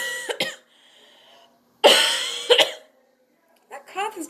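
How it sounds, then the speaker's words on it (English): Harsh coughing during a ventriloquist's puppet comedy act, with a couple of loud, close bursts separated by quieter moments and speech-like voices around them. "That cough is gonna be the death of me."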